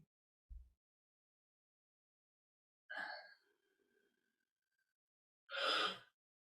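A person yawns twice, each a drawn-out breathy exhalation that rises and fades, separated by silence, with a faint soft thump before the first one.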